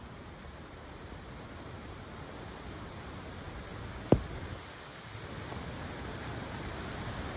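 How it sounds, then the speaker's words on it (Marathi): Heavy evening rain near a waterfall trail, a dense, even roar of downpour close around the recorder with a single sharp knock partway through, and no speech. "आता भयानक पाऊस चालू झालाय"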